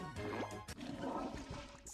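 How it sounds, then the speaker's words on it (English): Toilet flush in a studio setting, a loud rushing gurgle of water with a sharp click at the start, the swirl churning steadily for two seconds. "Flush."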